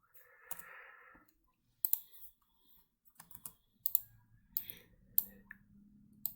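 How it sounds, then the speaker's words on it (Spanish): Sharp mouse clicks, several in quick pairs, sound on a computer while building a chemical reactor flowsheet for ethyl acetate production. They are close and crisp, spaced out over a few seconds, with a faint low hum under the later ones. "Doble clic sobre la corriente"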